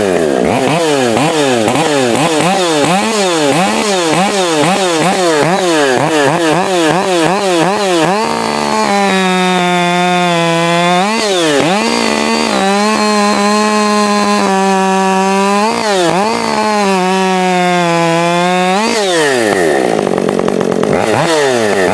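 A Husqvarna 555 60cc chainsaw with a ported muffler and stock cylinder head screams at high revs, bogging and recovering in repeated cuts, loud and close throughout with no talk.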